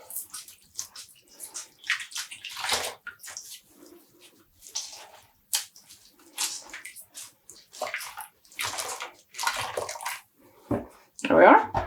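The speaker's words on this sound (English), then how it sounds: "And squeezing out water." Wet dyed yarn being squeezed in a tub, giving soft irregular splashes and drips of water in short bursts, fairly close, between pauses.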